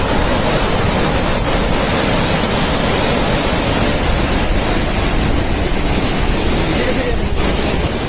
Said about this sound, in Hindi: ये झरना भी कल्पगंगा में ही मिल रहा है।